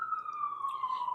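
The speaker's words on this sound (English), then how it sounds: "And apologies for the sirens, which I hear very, very often." A police siren wails steadily in the distance, a single drawn-out tone heard faintly from outside.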